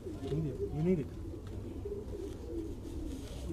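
John Robert breed pigeons in Quetta give soft, low cooing. A voice talks over the birds near the start, then the coos carry on faintly beneath a murmuring background.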